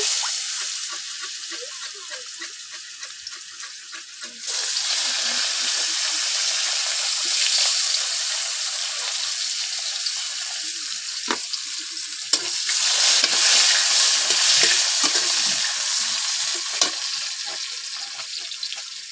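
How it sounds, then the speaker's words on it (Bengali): Potato pieces frying in hot oil give a loud, continuous sizzle close by, swelling when more go in, with occasional stirring clicks. "আমি সবটি আলু ভেজে নিচ্ছি"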